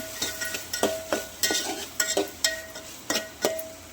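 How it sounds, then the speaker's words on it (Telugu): A spatula stirs soya chunks (meal maker) frying in a pan, making a quick series of about a dozen scraping strokes over a soft sizzle. "ఇలా ఒకసారి మిక్స్ చేసి"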